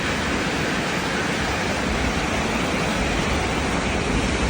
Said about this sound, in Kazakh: Жаңбыр құйып жатыр.